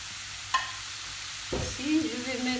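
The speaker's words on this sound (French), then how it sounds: "هاد الزبده غنطيبوا بها البصله والشامبينيون الفقاع" Onions and button mushrooms cooking in butter, a soft sizzle with a sharp tap, then a utensil stirring and scraping the pan in short strokes, close and fairly quiet.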